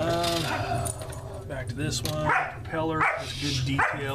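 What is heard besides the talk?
dog barking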